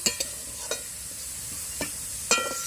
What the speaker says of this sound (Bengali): আর হলুদ দিয়ে আলুটা কষে নিচ্ছি।